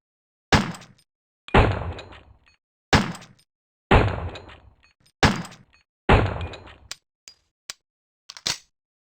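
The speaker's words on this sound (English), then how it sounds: "The satisfying reload." A weapon being reloaded in the original Resident Evil for PC, heard as six loud, evenly spaced metallic clunks with short ringing tails, then a few softer clicks and a final knock, with silence between them.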